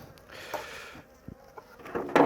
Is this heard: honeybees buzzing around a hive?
yes